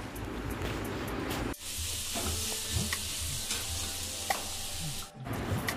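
Onions fry in a hot pan for biryani, giving a loud, steady hiss and sizzle close up, with soft stirring scrapes and a brief pause before the sizzle resumes.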